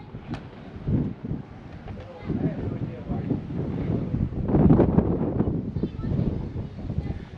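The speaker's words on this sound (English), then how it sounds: "Oh, it's getting windy now." Gusty wind rumbles and buffets the microphone in uneven surges, with voices talking underneath.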